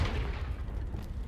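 Deep booming blast of a Confringo fire spell explosion in Hogwarts Legacy, loud and low-heavy from the first instant, rumbling on with a rough tail for over a second.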